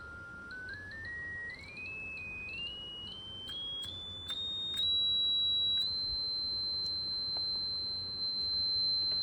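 A pure sine tone from an adjustable op-amp oscillator circuit climbs in small stepped jumps from a low pitch to a high steady whine, then holds there, fairly quiet and alone with faint background hiss.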